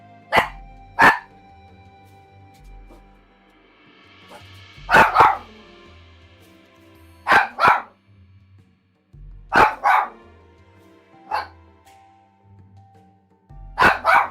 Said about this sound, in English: Sorry guys, I don't know what she's barking at.